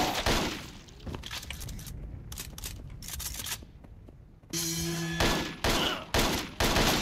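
Gunfire in the video game Total Overdose bursts out in loud, rapid volleys of shots broken by short lulls, along with clattering and breaking noises and an electronic tone partway through.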